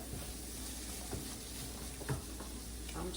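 Peppers and onions sautéing in a pan for smoked turkey sausage jambalaya, a faint, steady sizzle with occasional soft stirring scrapes, quiet and continuous with no talking.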